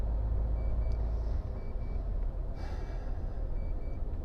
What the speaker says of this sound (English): Realistically, it shouldn't beep unless you're doing 20 mile an hour or more.